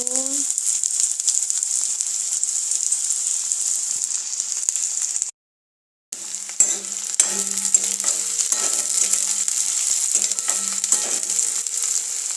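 Onions frying in oil in a home kitchen, a bright continuous hiss broken by a brief silent gap, then resuming with spatula scrapes and a faint hum underneath.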